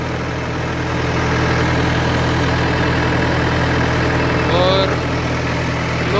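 A tractor engine runs steadily while driving a PTO generator, giving a loud, continuous low drone that holds an even pitch throughout, with a faint brief whine near the end.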